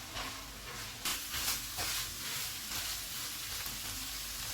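Minced keema sizzles steadily in a pan over a medium flame, a continuous close hiss with occasional brighter spits and stirring scrapes, no voices.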